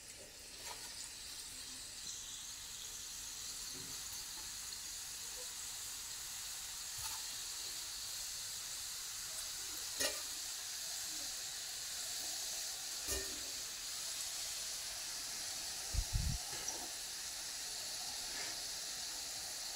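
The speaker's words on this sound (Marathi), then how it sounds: "करंज्या ह्या तयार झालेल्या आता तळून घेऊया। तेल तापलेलं आहे, त्याच्यात एक एक सोडून घ्यायची" Karanji pastries deep-fry in hot oil with a soft, steady sizzle and hiss throughout, broken by a few faint pops and one brief low thump, with no voices.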